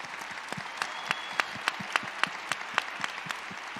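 Sparse, fairly quiet applause from a small audience after a panel discussion on race, with distinct individual claps in an uneven rhythm.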